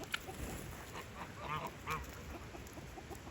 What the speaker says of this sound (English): Oh, there's some crazy guinea birds.